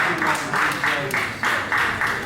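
A wrestling crowd claps in a steady, rhythmic pulse after a mixed tag team match, with a commentator's voice running over the applause.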